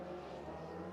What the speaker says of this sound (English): Everyone is watching as the cars flash by on their first lap.